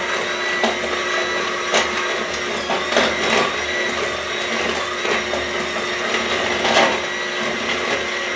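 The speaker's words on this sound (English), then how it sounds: "So I like to mix my sugars together and then blend them up" Steady whirring of a blender grinding sugars together at slow speed for paleo chocolate chip cookies, a continuous motor drone with rhythmic rattling knocks throughout.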